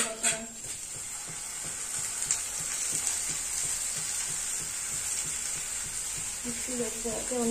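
Onions frying in a pan with poppy seed paste, a steady close sizzle with scattered crackles and stirring knocks that continue throughout, while a voice speaks faintly underneath.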